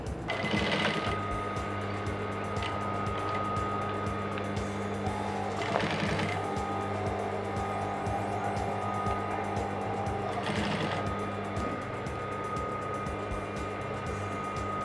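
A sewing machine stitches a trouser facing with a half-inch seam allowance, humming in a continuous close run with a steady motor tone and faint periodic clunks.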